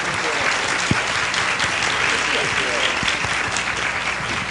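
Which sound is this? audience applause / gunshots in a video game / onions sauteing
audience applause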